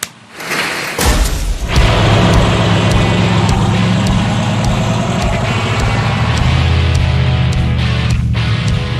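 A 1,000 hp hot rod car starts up and drives, a loud, steady low engine rumble holding throughout after an initial thump.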